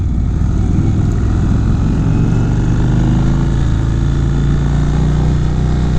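A 2019 Indian Chieftain motorcycle in sport mode, its engine and exhaust giving a steady, deep, throaty drone that stays loud and close throughout while riding, with no talking over it.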